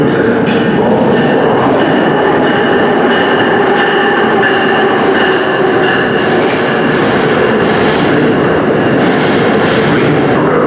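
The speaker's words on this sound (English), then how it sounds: "Now arriving on track 3 is the Amtrak 237 westbound train" Amtrak train pulling into Newark Penn Station, with a loud, steady rumble of railcars and faint wheel squeal throughout, close by and with no speech over it.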